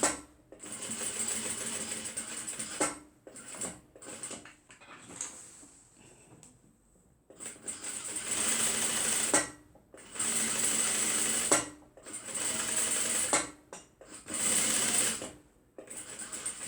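A sewing machine runs in repeated bursts while stitching the pocket of a fabric beach tote bag, each run a steady close whir lasting a couple of seconds, separated by short pauses.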